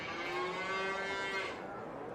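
Cattle moo in a Farming Simulator dairy pasture holding 25 cows, one long drawn-out low call with a clear harmonic tone that sustains steadily and then fades, over a faint background hum.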